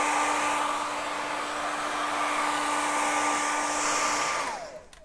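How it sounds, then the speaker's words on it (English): A hair dryer blows a steady, loud whoosh with a constant whine while drying a custom airbrushed Converse sneaker coated in water-based paint, then switches off and winds down at the end. "I'll blow dry it."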